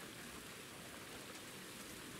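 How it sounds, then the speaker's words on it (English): Steady rain in the video game Ultimate Fishing Simulator, a continuous quiet wash of falling drops with no breaks and no talk over it. "I really wish it wasn't raining outside."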